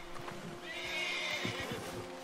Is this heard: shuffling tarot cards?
no